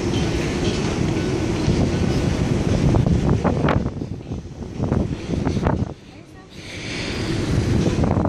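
Loud, steady roar of strong wind buffeting the microphone on a cruise ship deck in rough seas, with rumbling low noise and brief voices underneath, dipping momentarily before surging back.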